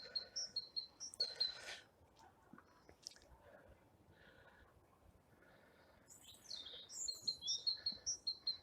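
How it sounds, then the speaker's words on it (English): Small birds chirp and tweet in a quiet winter garden in the morning, with bright high calls clustered at the start and again near the end over faint background rustle. "There's still plenty of birdsong here in the Solace garden."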